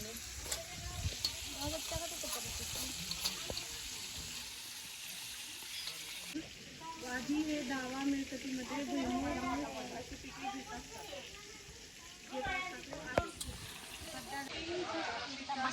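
Fish sizzling as it fries in a pan, a steady crackling hiss that runs under several people chatting, moderately near and fairly quiet.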